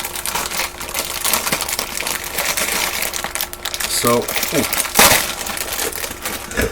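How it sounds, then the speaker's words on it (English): Plastic noodle bags crinkle loudly as they are torn open in a home kitchen while an Asian chicken salad is made, with a sharper rip near the end and a brief spoken word. "as we fight to get the bags open"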